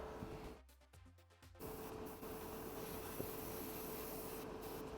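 Aerosol can spraying off-white paint onto a Gunpla model, an MG Providence kit in Millennium Falcon colours, as an extractor fan runs; a short test burst is followed by a steady continuous hiss that carries to the end.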